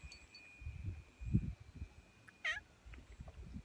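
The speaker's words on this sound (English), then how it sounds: "oh look, a cat, just very much scared me too" A cat gives a single short meow partway through, close and clear over low rustling and a faint steady background tone.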